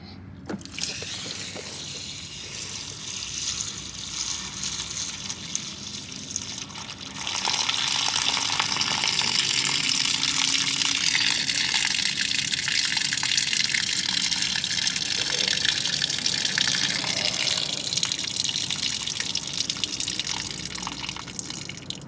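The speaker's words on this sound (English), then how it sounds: "watch all the beautiful water run out" Water gushes and splashes steadily out of a 2004-2009 Toyota Prius through a removed drain plug, a loud continuous rushing flow that grows stronger after several seconds, with no talking.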